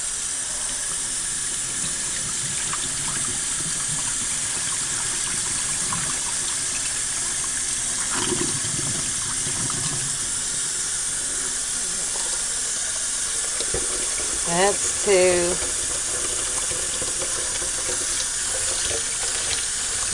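Warm tap water runs steadily over rice in a sink for rinsing, a continuous gushing stream that holds throughout, with a few brief clatters and a short spoken remark near the end.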